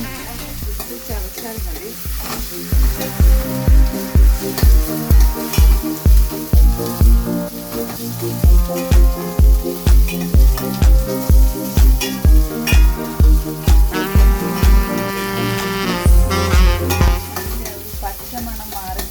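Ginger garlic paste sizzles in a pan for a bone curry, a loud frying hiss under a strong rhythmic pulse of background music, with a brief spoken line.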